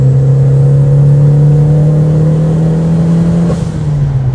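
A drag-tuned Mitsubishi Evo 8 MR engine set up for high RPM holds a loud, steady rev, a strong continuous drone with a slight dip near the end and no talk over it.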